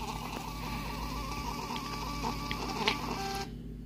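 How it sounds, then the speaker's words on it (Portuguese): A receipt printer prints a delivery order with a steady mechanical whir and faint clicks, running continuously close by for about three and a half seconds, then stopping abruptly. "E coloca pra imprimir, ó."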